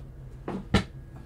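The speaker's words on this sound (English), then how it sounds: "I'm going to put my circle tray back in the drawer" A circle tray goes back into a drawer: two close wooden knocks, the second sharper and louder, against a quiet room.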